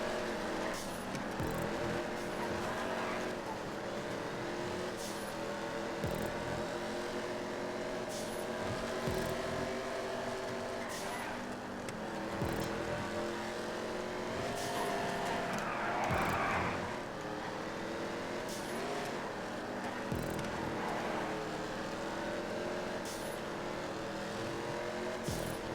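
A race car engine screams through a racing lap in GTA 5, holding a steady high whine with repeated gear changes and revs rising and falling, loud and continuous with no talk.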